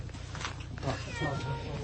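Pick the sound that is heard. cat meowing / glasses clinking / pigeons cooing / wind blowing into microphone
cat meowing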